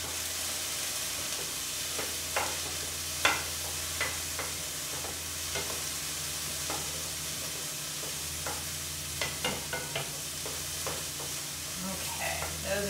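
Peppers and onions cooking in a pan, a long low sizzle punctuated by repeated spatula stirs and clinks, with a faint voice briefly in the background.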